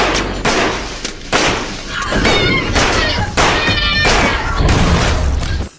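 Gunshots from the film Run Hide Fight, a loud run of repeated sharp blasts fired in steady succession with crashing impacts, about a dozen shots over several seconds.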